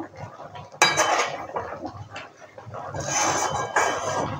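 Spoon scraping and clinking against a pot while roasted garam masala is stirred into chicken maharani curry, with irregular close scrapes and a sharp clatter early on, no talk.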